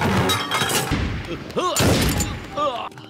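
Gunfire crackles through a film shootout scene in bursts, loud and close, mixed with shouting voices and other action sounds.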